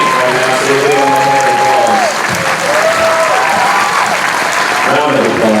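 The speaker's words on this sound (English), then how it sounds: "round of applause." Crowd applause at a community speech event, loud and sustained clapping from many people, with a few voices calling out and a sung or whooped tone rising above it partway through.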